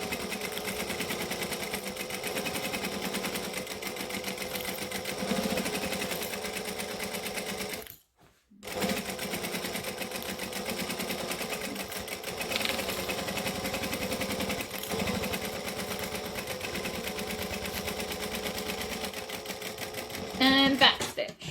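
Sewing machine stitching fabric in a steady, fast whirring run that stops briefly for a needle-down pivot, then resumes close and continuous, with a voice speaking over it.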